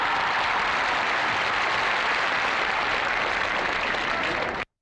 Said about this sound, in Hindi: तो आइए हम उनका तालियों के साथ स्वागत करें।